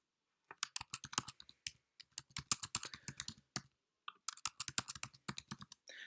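Typing on a computer keyboard while filling in a web form, quick bursts of crisp key clicks separated by short silent gaps, close and clear with no voices.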